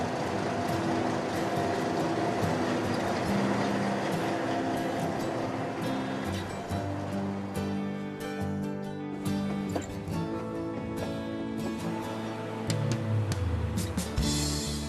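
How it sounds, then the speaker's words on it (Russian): A luxury train runs on rails through Peru, its steady rumble and rattle of carriages continuous and close for the whole stretch, with a rising tonal whine near the end. "Весь поезд класса люкс для меня одного."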